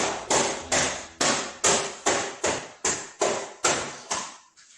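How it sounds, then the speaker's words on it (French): A child knocks repeatedly against a chair in a kitchen, about ten loud, evenly spaced thuds in a steady rhythm, close and sharp, with no voices. "c'est mon fils qui cogne la chaise."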